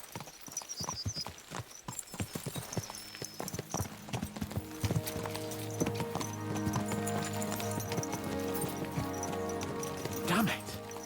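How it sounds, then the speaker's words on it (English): Horses gallop in the medieval video game Kingdom Come Deliverance 2, with rapid rhythmic hoofbeats up close giving way to a denser rumble of riding and music-like tones, and a voice talking over part of it. "Let's really spur these horses on, eh?"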